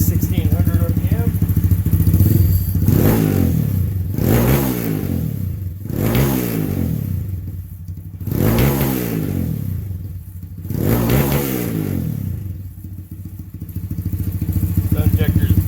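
A Honda Grom motorcycle engine set up to run on E85 fuel runs close and loud at about 1600 RPM, its tone swelling and falling in repeated regular cycles over roughly sixteen seconds.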